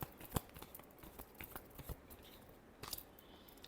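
Tarot cards shuffled by hand in a quiet room, faint papery riffles and flicks with a few sharper snaps, irregular and close, with no voices.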